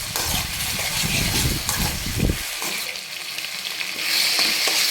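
Gongura chutney with green chilies cooking in oil on a low flame, a steady close sizzle with stirring scrapes through the first half, then a lighter continuous crackle.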